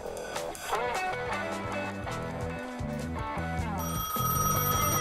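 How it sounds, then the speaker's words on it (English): In the Gas Station Simulator video game, a telephone rings in repeated electronic bursts mixed with game music and other tones, fairly loud and near, with no voices. "The phone's ringing."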